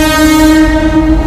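A loud, sustained train horn blaring up close, with the rumble of a passing train underneath, on an Indian railway line.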